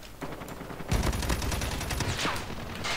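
Gunfire in the mobile game Call of Duty Mobile, a dense, loud burst of rapid shots and impacts filling the whole moment, close and continuous, with no voices over it.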